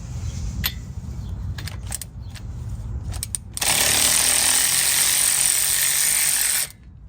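An impact wrench or power tool loosens the 17 mm brake caliper bolts on a Honda Pilot's front brakes. After some light clunks, a loud, steady high whir runs for about three seconds and then cuts off.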